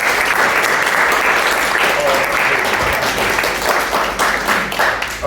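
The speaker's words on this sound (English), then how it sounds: "I want to give you a massive round of applause," Audience gives a presenter a big round of applause at a business event, dense continuous clapping that fills the room loudly for several seconds, with no talking.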